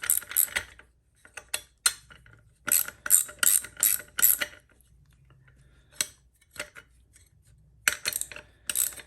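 Ratchet wrench loosening the 14 mm sprocket bolts on a Honda Monkey motorcycle: bursts of rapid close clicking, several separate runs with short pauses between them, and no talking.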